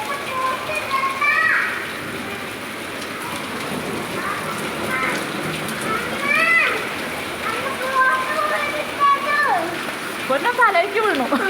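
A sudden downpour with falling hail batters surfaces outdoors in Saudi Arabia, a loud, dense wash of rain and splatter throughout, with voices, including a child's, calling out over it.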